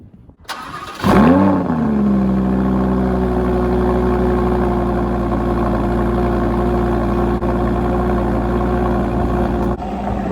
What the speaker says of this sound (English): this Lamborghini Huracan exhaust is very, very loud